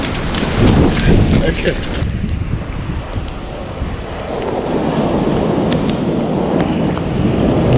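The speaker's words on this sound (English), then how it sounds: "Raining." Rain falls on a coastline beside the sea, a loud hiss of drops mixed with wind buffeting the microphone and surf, with a brief spoken word near the start.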